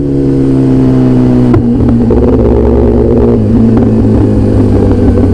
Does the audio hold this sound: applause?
no